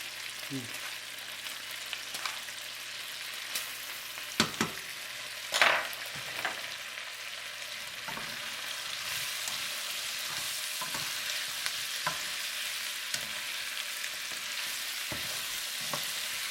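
Pork spare ribs fry with cane sugar in a pan over medium heat for Kung Pao ribs, giving a continuous sizzle broken by scattered clinks and scrapes of stirring, including a louder clatter partway through.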